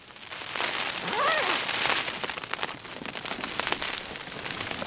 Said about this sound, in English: Alright, it's actually ice, not rain.